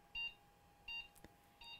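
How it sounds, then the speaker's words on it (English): Three short, high-pitched electronic beeps from an Asus TUF 4090 graphics card that is not detected, evenly spaced, with a faint steady hum and a brief click between them. "we have six beeps. Six beeps means the card is not detected."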